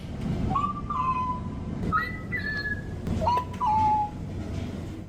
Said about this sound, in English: It makes these little chirping and beeping noises as it's, going about its business